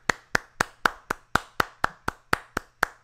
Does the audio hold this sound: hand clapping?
yes